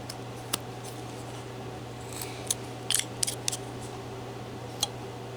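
Wood is cut by hand while a figure is carved, giving a few faint, sharp snips and clicks scattered over a steady low background hum, close and quiet.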